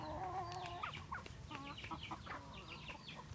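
Several hens cluck in short, close bursts around a rooster, with chatty calls overlapping against a quiet farmyard background.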